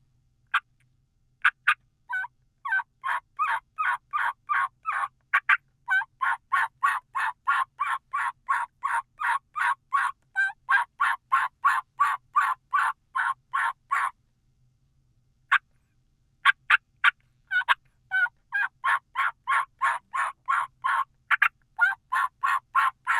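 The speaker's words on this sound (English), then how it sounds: "So that was your old hen assembly." A turkey hen's assembly call, made as a long series of pleading yelps in rapid, even rhythm, with a brief pause partway through before the string resumes, clear and alone against quiet.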